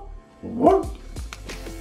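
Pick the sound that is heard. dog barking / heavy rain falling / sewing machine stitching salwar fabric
dog barking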